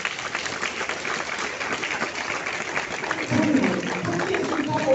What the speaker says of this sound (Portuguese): Se você não der um aplauso aí